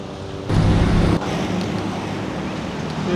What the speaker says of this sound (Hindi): काफ़ी तेज़ है लहरें, हाई टाइड है लगता है।